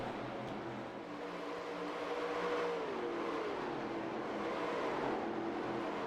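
Race cars lap the Atlanta track during an old-school stock car event, engines rising and falling in pitch as they pass, heard faint and distant under a steady crowd-and-track wash.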